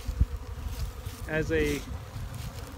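Honey bees swarm over an open dry feed supplement on a windy day, a steady buzzing hum mixed with wind noise, with a brief voice speaking partway through.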